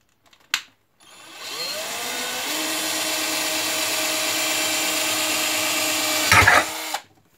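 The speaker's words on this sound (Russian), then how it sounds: "сверлим отверстие в банке" A cordless drill whirs steadily into a metal can for several seconds, its pitch settling as it bites, ending with a brief grinding rattle before stopping.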